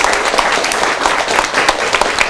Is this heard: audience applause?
yes